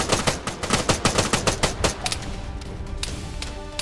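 Rapid bursts of automatic gunfire in the military shooter ArmA 3, sharp close shots in quick rhythmic volleys for about two seconds, then sparser scattered shots trailing off.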